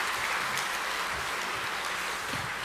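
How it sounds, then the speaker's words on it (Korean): A church congregation at a Presbyterian Sunday evening service applauds its elders in encouragement, a dense, steady wash of many hands clapping with no break. "열심히 하라고 격려의 박수 한번 합시다."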